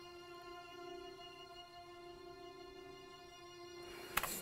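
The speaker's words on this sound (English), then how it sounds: "a classic acid jazz thing is to have a high string note going" A single high string note in an acid jazz style holds steadily, quiet and unwavering, over faint background before a brief noisy burst at the end.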